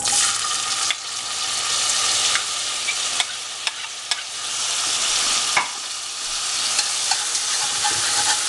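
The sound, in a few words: onions cooking in a pan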